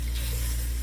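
Onions and meat cooking together in a pan, a faint, steady low sizzle with soft background hum and no talk.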